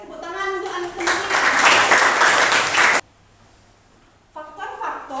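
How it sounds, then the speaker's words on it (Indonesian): High school students clap for their classmates in a classroom guidance lesson, a dense burst of applause lasting a few seconds before cutting off abruptly to near silence, with a teacher's voice heard around it. "tepuk tangan untuk anak-anak"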